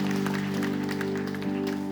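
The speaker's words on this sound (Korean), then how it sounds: "우리 그 믿음으로 다시 한번 주님께 박수하며 나아갑시다" Rhythmic congregational clapping during a church worship service, steady and even, mixed under sustained worship music.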